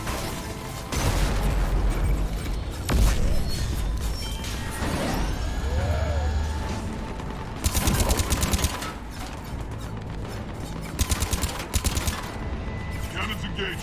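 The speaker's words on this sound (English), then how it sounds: "Cannons engaged." Heavy cannons fire during a battle in Mass Effect 3, with repeated loud booms, explosions and crackling bursts of gunfire over about fourteen seconds, mixed with voices and whooshing effects.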